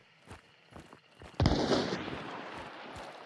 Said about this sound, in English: Oh no, you threw a decoy fuse, I threw like a blank fire.